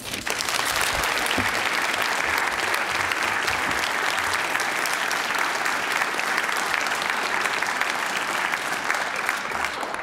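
A room full of people at a college donor-scholar breakfast claps for student speakers, a dense, steady round of applause that holds evenly for about ten seconds with no break.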